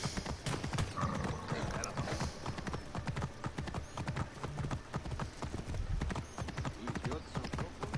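Horse hooves in the video game Assassin's Creed Origins clip-clop steadily throughout, with a brief whinny, carrying on continuously at moderate loudness with faint talk underneath.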